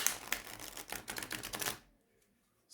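Tarot card deck riffle shuffled, a quick flurry of crisp paper flutters lasting under two seconds, close and fairly soft, ending in silence.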